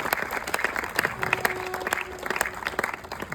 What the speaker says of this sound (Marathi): आपण फेल इंडियासाठी खूप जोरात टाळ्या वाजूया आणि जावडे साहेबांसाठी सुद्धा खूप जोरात टाळ्या वाजूया